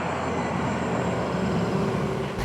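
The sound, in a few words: Mercedes G580 EV digital AMG-like drive-by sound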